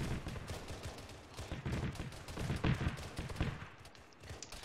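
Gunfire in a military video game crackles as scattered, overlapping shots from several weapons, fairly faint and distant, rising and falling across the stretch.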